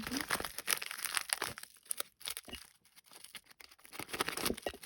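Crinkly plastic AliExpress package being opened up close, with loud crackling, rustling and tearing bursts that come in uneven clusters and briefly pause midway.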